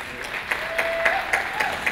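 An audience applauds at the Together in Canada gala, held by the Canadian Ethnic Media Association. The clapping is brief and moderately loud, with regular accented swells and no voices.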